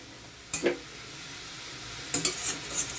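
Green amaranth leaves stir-frying in a pan over medium heat, a soft steady sizzle broken by two short bursts of spatula scraping and stirring, close and moderately loud.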